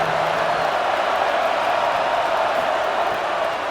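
A stadium crowd in a college football video game, Arizona State versus Nebraska, roars steadily behind the defense on a big third down, a dense, constant wall of cheering noise with no pause or break.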